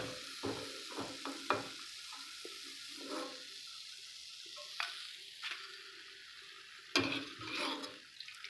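Drumstick leaf pakoda deep-fries in oil, heard as a soft, close bubbling sizzle. Sharper clinks and stirs break in now and then, and nobody speaks.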